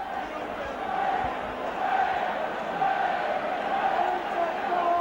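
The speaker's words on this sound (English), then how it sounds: "Both sets of supporters now trying to raise the team." A packed rugby league crowd at a Warrington versus Wigan local derby keeps up a dense, steady roar of chanting and shouting from both sets of supporters.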